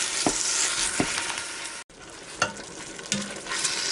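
Ground meat browning inside a Ninja Foodi Deluxe multicooker for sloppy joes, with a steady close sizzle broken by a few scraping stir knocks and one brief dropout.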